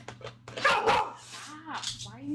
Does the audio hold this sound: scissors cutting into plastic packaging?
no